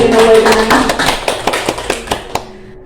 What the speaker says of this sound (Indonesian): Tepuk tangan Bapak Ibu untuk Sekolah Dasar Negeri 6 Waikenanga